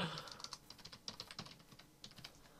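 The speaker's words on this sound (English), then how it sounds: "Jeez, I can't type." Quick, uneven typing on a computer keyboard while logging into an Xbox Live account, with close, fairly faint clicks coming in bursts.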